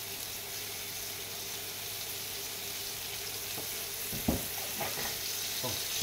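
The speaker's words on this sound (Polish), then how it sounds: "trzeba te żeberka przysmażyć" Pork ribs frying in oil in a pot give a steady, even sizzle throughout, with a few soft clinks and stirring knocks near the end.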